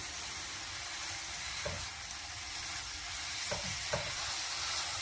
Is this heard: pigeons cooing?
no